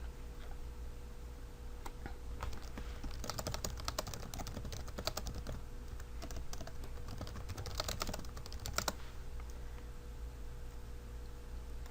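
Fingers typing a caption on a computer keyboard, quick irregular clicks of keys in clustered bursts over a constant low hum, fairly faint and close, with no talking.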